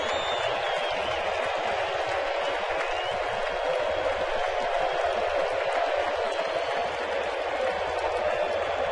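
A baseball stadium crowd at an ALDS playoff game cheers and applauds in the top of the ninth inning, a broad, steady roar of clapping and voices from a distance that holds throughout.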